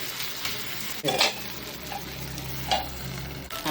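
Ragi roti sizzles on a hot pan, a soft steady frying hiss with a few scraping clatters of a spatula or utensil.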